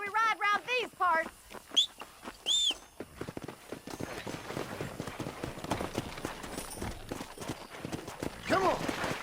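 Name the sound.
horses galloping in video game Red Dead Redemption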